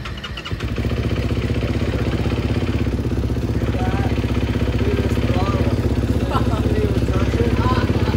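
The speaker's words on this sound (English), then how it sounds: "Let's see how the quad sounds." A quad bike engine runs steadily and loudly from start to finish with a close, throbbing mid-low drone, while people talk over it.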